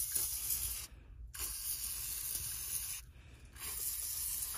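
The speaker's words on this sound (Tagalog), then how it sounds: "WD-40. Spray natin." WD-40 Specialist degreaser sprayed across a car engine bay, a steady close hiss in long bursts broken by two short pauses.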